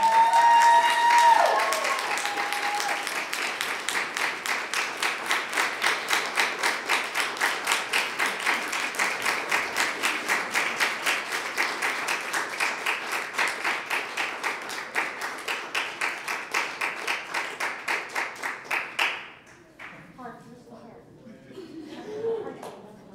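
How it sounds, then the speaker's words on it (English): Sustained audience applause at a Phi Theta Kappa honor society ceremony at Merritt College, dense steady clapping from a large crowd that carries on for about nineteen seconds before fading into quieter room sounds. "Please give a big round of applause for Dr. Harold Goldenberg."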